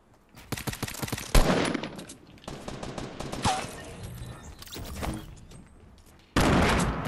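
Rapid automatic gunfire bursts in a Fortnite Battle Royale match, loud and close, with stuttering volleys and a few sharp single shots between them, ending in a heavy sustained burst.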